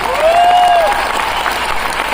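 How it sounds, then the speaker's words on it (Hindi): Steady applause fills a hall at an MI Lifestyle program in Nagpur, with the crowd clapping together loudly and a whistle-like tone rising briefly above it near the start. "तालियां कम नहीं, अभी तो दबा के बजाने के टाइम आ गया,"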